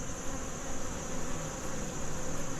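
Honeybees swarm around an open hive during a mid-October inspection, their dense, steady buzz filling the air close by without a break and no voices over it.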